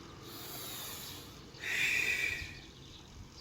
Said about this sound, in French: J'inspire, j'expire.